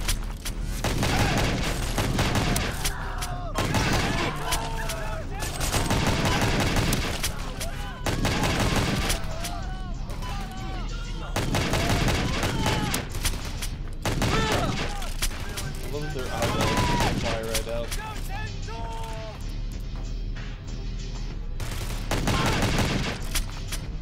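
Gunfire in the video game Spin 2 Suffer: repeated loud bursts of shots over about twenty seconds, separated by short lulls, mixed with game music and voice sounds, dense and close.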